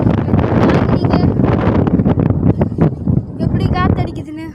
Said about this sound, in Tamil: இந்த இடத்துல இப்படி காற்றடிக்குது மக்களே